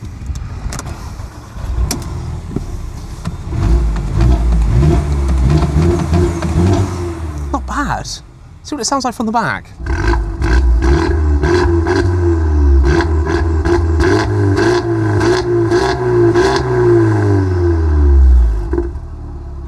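A Mercedes-AMG A-Class engine idles, then revs up and down in several rising, falling sweeps, loud and close, with someone speaking briefly over it.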